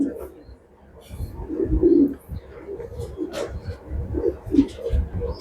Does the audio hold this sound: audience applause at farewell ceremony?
no